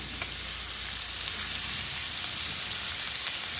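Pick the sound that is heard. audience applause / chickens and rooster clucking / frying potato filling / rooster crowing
frying potato filling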